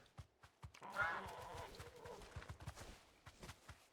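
A chocobo-style bird mount in Final Fantasy XVI approaches with quick, rhythmic clip-clop footfalls, quiet and near, accompanied by a brief whinny-like call.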